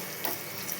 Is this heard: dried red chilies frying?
yes